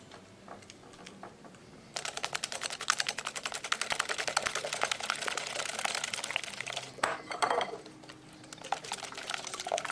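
Egg, spices and cornstarch being whisked together into a marinade for chilli fish, a busy run of quick close-up clicking and sloshing strokes against a bowl, starting after a quieter pause and carrying on steadily.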